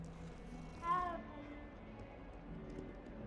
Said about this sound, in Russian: Хоть покорми кошку-то, блин, она голодная, смотри, исхудала вся.